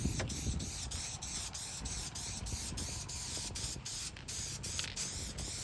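A steady, continuous spray paint aerosol hissing without a break while touching up pinball back glass, close and fairly loud, with no voices.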